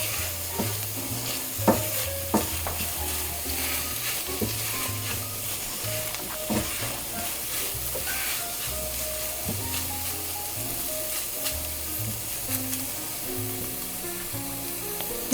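Minced meat (qeema) fries over medium-high heat in a pan while a utensil stirs and scrapes it, with a continuous sizzle and repeated knocks and scrapes of the spoon against the pan.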